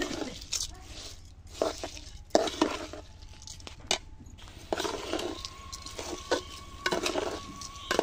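Spatula scraping and stirring khichuri of rice and lentils in a pot, with soft scrapes and knocks against the metal in an irregular rhythm, heard up close and interrupted by bursts of talk.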